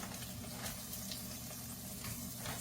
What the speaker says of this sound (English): So we're going to give it just a little bit of a shake and put them in this pan.